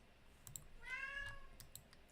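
A cat meows once, a drawn-out faint cry in a quiet indoor room, with light keyboard-like clicks around it.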